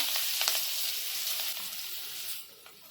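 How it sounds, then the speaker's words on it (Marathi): Chopped chili dropped into hot oil and butter crackles in a loud, close sizzle that stays dense, then tapers off near the end, no voices. "तेल आणि बटर गरम झालं ना की इथे मिरची कापलेली आहे ही मी टाकून घेते"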